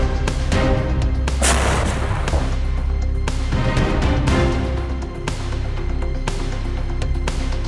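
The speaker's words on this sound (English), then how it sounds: "They are using explosives to blow the entrance of the building and sustain small arms fire to suppress Russian positions." Explosives and sustained small arms fire in urban combat footage from the Pokrovsk area, a dense, continuous barrage of booms and gunfire bursts, loud and heavily compressed with no clear pauses.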